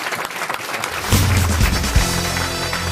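Studio audience at a radio game show gives a short round of applause that swells partway through, with a low hum and a brief voice near the end.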